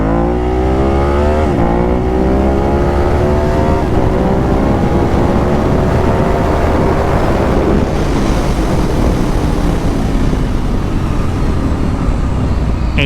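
A Ducati 1098 motorcycle accelerating hard into a wheelie, engine climbing loud and continuous through rising revs with gear changes, heavy wind rush over the microphone throughout.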